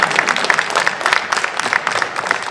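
Audience applause at a Destination Star Trek Birmingham 2018 press conference: dense, steady clapping from a crowd, fairly close and loud, with small surges throughout and no speech over it.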